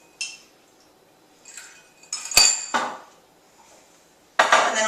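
A spoon stirs a low-calorie drink topped with club soda, producing bright metallic clinks against the glass in several separate bursts with quiet gaps between them.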